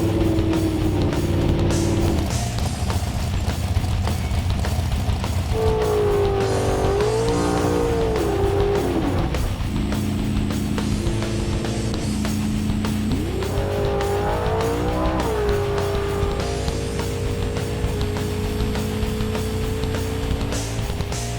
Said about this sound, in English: I get to drive a Copo Camaro.